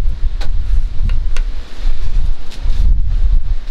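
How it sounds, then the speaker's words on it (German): Gusty outdoor wind buffets the microphone in steady low rumbling bursts throughout, loud and close, with faint rustling on top during an open-air Dutch oven cooking session. "Es könnte heute ab und zu mal eine kleine Windböe kommen."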